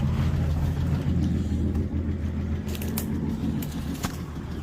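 A 1965 Plymouth Valiant with a 225 slant six engine on a cold morning idles steadily with a low, constant rumble, close and loud, with a few light clinks on top.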